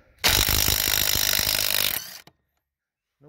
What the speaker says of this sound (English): it'll take these lug nuts right off the lug bolts right off the axle, no problem.